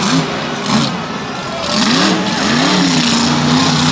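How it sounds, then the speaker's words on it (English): A loud, close monster truck engine revving and roaring at MetLife Stadium, its pitch rising and falling as the throttle is worked, with a constant rumble underneath. "You love to hear the truck sounding like that"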